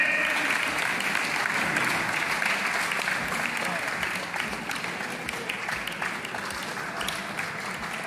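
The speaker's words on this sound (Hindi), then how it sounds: "तालियां बजती रहे" Sustained applause from a large audience at a district-level conference of the Rajasthan teachers' association in Udaipur. The clapping is dense and steady across the whole stretch, easing slightly in volume partway through.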